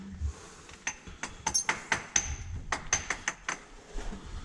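Rock in a cave being tapped to test whether it sounds hollow, a series of sharp, irregular knocks with ringing clinks, close and fairly quiet, with no talking.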